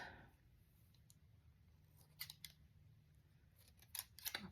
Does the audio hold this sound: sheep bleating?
no